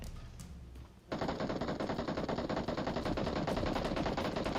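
Rapid automatic gunfire in PUBG Mobile starts abruptly after a second of quieter background, then runs as a dense, sustained burst of shots close and loud through to the end.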